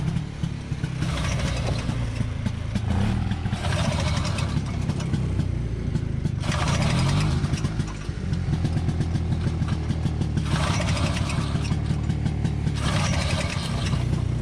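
A Ski-Doo Elan snowmobile engine pull-started on full choke in snow: loud, close, rough sputtering that surges in repeated bursts and catches briefly between pulls, with no voices.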